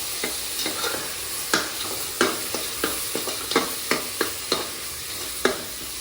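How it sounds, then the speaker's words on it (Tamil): Onions sauté with spices in a pan for a chickpea sundal kurma, a bright sizzle punctuated by a steady series of sharp spatula taps and scrapes roughly every half second. "மசாலா ஐட்டம் போட்ட உடனே வெங்காய விழுத போடணும். அது நல்லா வதங்கணும்."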